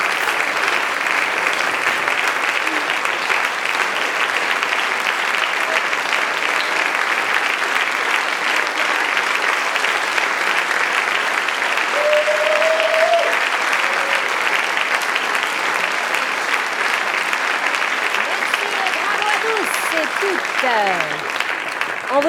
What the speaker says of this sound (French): Venez prendre vos applaudissements.